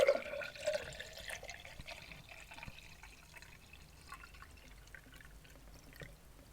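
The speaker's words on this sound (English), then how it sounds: "But let's pour it and see how it hits." Prime Tropical Punch sports drink is poured from its bottle into a glass: a brief splashing gush at the start, then softer trickles and drips that fade away.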